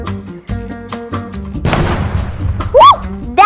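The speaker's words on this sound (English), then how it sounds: "we wait for the explosion." A children's rocket launch experiment goes off with one loud burst of noise about halfway through, following background music, and a bright squeaky whistle cuts in near the end.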